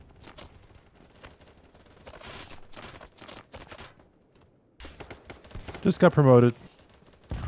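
Gunfire in the online shooter BattleBit, broken bursts of shots scattered through the clip with a louder, denser volley near the end, heard under players chatting.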